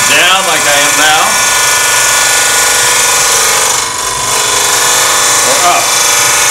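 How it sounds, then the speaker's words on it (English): A woodturning scraper cutting an open segmented bowl spinning on a lathe gives a loud, steady whirring scrape, with someone talking over it now and then. "With my scraper, I can go down like I am now."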